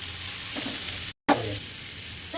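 Washed cauliflower goes into a pan of frying tomatoes with a close, steady sizzle. A brief dead gap breaks it midway, then the hiss returns, briefly stronger, with small stirring clatters and scrapes.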